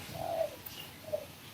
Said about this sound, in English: You can hear the birds overhead in the trees.